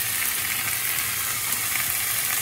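Porcini mushrooms fry in a hot pan, giving a steady, close, continuous sizzle with dense crackling throughout and no voices.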